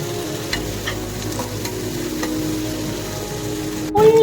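Onions frying in hot oil, a loud, steady close-up sizzle that continues throughout, with a brief stirring clatter and a burst of heavier hiss near the end.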